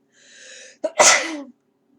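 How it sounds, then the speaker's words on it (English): A single loud sneeze, a short intake of breath and then a sharp burst, close to the listener, followed by silence. "I'm so sorry for sneezing, that's weird."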